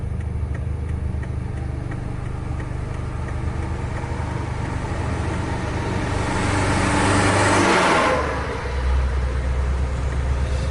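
A double-decker bus overtaking on a highway in Aceh: a steady, loud engine and road drone that swells into a passing whoosh before settling again.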